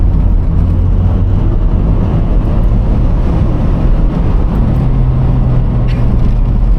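A Toyota MR2 engine pulling hard along a country lane, a loud, steady, close droning roar with a low rumble and faint rising tone, continuous throughout and with no voices over it.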